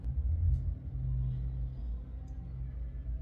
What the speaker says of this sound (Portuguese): Passou um carro com som aqui